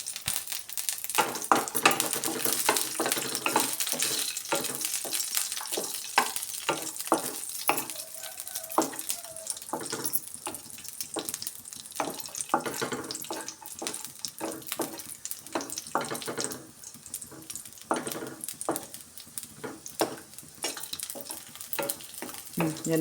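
Raisins fry in a pan for shavige payasa, giving a steady close sizzle broken by frequent sharp clicks and stirring scrapes throughout, with no talking.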